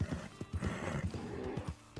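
A horse whinnies and snorts amid clopping hooves in Red Dead Online, a shrill neigh over rhythmic thumps, moderately distant and fairly quiet.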